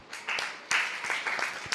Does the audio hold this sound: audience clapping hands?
yes